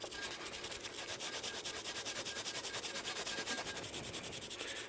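A stiff wire-bristle brush scrubs steadily and continuously at close range, a dense rasping hiss with a faint back-and-forth rhythm, during work on a Tecumseh 6 HP engine from a Snapper riding lawn mower.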